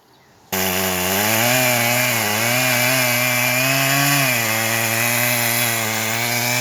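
A chainsaw starts loud and runs steadily through wood while felling a tree on a homestead, its engine pitch dipping briefly under load and then holding a close, continuous whine.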